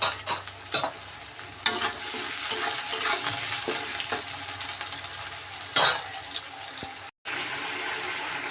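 Bitter gourd fries in a pan with a continuous sizzle, broken by several scraping stirs and knocks of a spatula. The hiss stays steady and close throughout, with no talking.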